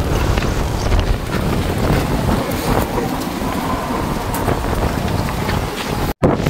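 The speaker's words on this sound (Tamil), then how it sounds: "காற்று வந்து பயங்கரமாக அடிக்குது." Strong wind blows outdoors on a mountain road during a safari trip, roaring and buffeting the microphone in a loud, continuous rush that holds steady for several seconds, with no talking.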